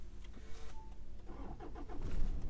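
A car engine cranks and starts on a fishing trip at Point Culver, Western Australia. The starter churns briefly, then the engine fires and settles into a steady idle that grows slightly louder toward the end, heard close with no talk.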